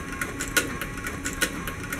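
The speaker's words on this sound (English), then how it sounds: "This is the only machine that we use in the making of our gun belts" A sewing machine stitches a leather gun belt in a workshop, giving a steady mechanical whir with two sharper clacks as the leather is hand fed through.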